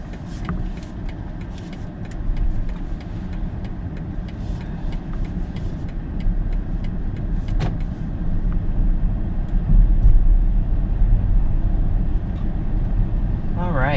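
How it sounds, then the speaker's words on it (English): A 2020 BMW 7 Series plug-in hybrid pulls away, heard from inside the cabin as a low, steady hum that builds gradually, with occasional light clicks and a person talking. "taking off in the plug-in electric 7 Series"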